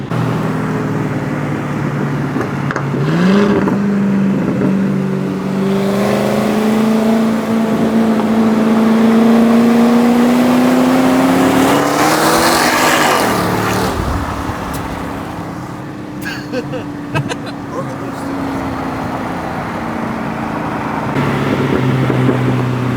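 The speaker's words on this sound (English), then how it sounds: "He's downshifting." A car engine at a street race revs and climbs in pitch, then drops as it downshifts and surges again, loud and close with a steady roadway roar behind it.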